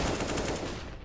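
Rapid automatic rifle fire in a competitive video game match, a short dense burst of shots that trails off within about a second, fairly loud against the game's background.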